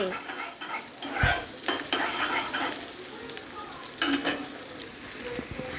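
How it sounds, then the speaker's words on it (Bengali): Onion and green chili being stirred in hot oil in a pan, with repeated scraping and clinking of a metal spoon against the pan over a soft sizzle, close and moderately loud, and no one talking. "এরপরে এখানে পেঁয়াজটা ঢেলে দিচ্ছে, এরপরে তেলের সাথে নাড়িয়ে চাড়িয়ে দিচ্ছে।"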